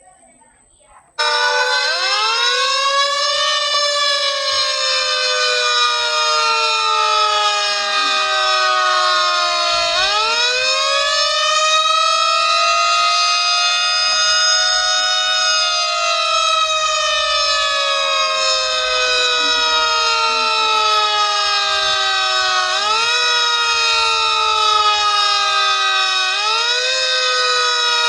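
A civil defense evacuation warning siren wails loudly and continuously, its tone rising and falling in long sweeping cycles with no other sound over it.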